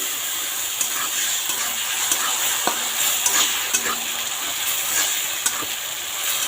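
Spice paste being stir-fried in a hot pan, with a loud continuous sizzle and hiss overlaid by periodic spatula scrapes and taps at a close distance.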